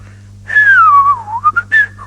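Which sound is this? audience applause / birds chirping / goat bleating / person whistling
person whistling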